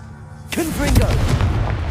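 Confringo explosive spell in Hogwarts Legacy, a sudden loud boom that bursts in after near silence, followed by a rumbling fiery blast with a brief voiced grunt.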